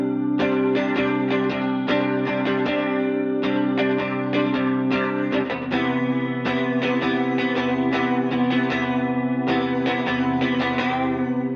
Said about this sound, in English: I'm gonna replay the main guitar with a simplified mix